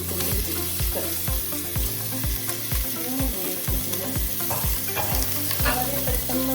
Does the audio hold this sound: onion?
yes